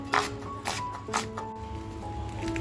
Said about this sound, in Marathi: कांदा सुद्धा बघा आपल्याला आहे ना बारीक अगदी कापून घ्यायचे